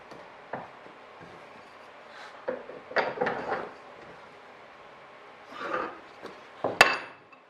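A wooden backup board is clamped down onto MDF form blocks during a Bearhawk experimental airplane fuel tank build, giving a few scattered knocks, scrapes and clicks of clamp and wood at close range in a quiet workshop.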